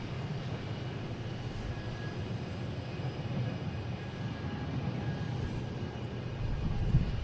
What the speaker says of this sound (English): We have a JetBlue head to Atlanta, an A220.